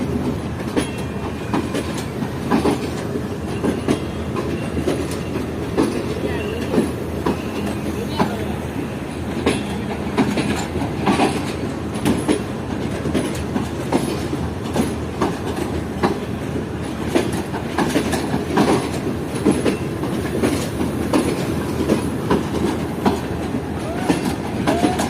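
The restored Shalimar Express, with new coaches, rolls out of Karachi Cantt railway station, giving a loud, steady rumble of wheels on rails with rhythmic clickety-clack and occasional metallic squeals, heard from on board throughout.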